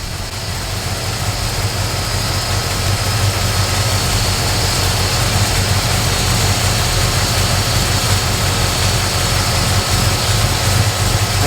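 A Prospector engine runs steadily at operating temperature, a loud, continuous low drone with a constant rumble and no breaks for the whole stretch.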